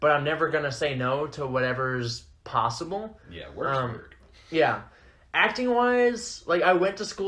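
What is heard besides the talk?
No everyday noise stands out behind the speech.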